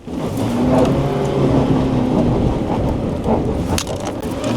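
A 4x4 in four-low strains against deep ground without breaking free, a loud sustained engine roar that swells, holds and drops back slightly, with no speech.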